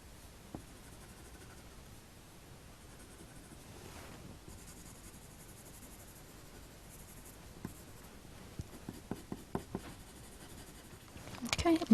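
Coloured pencil shading on paper, a soft continuous scratchy rasp of close strokes, with a few sharper taps and scrapes toward the end.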